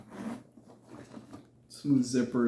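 A zipper on the front pocket of a Temu bag slides open in two quick, smooth, close pulls, after a stretch of talking.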